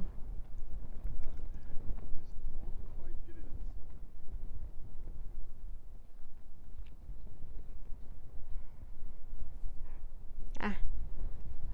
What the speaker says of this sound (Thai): ลมแห้งๆค่ะพี่น้อง